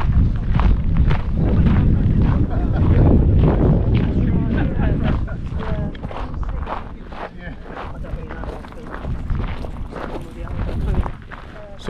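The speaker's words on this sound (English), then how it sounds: "it's a little bit windy" Strong wind buffets a GoPro Hero 11 Black microphone outdoors during a countryside walk, a heavy low rumble that is loud at first and eases later, with people talking over it.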